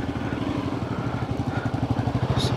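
A Royal Enfield Himalayan 450 or Hero XPulse 200 motorcycle rumbles steadily at close range, setting off for an off-road ride to a forest, its engine note running evenly throughout with no talk.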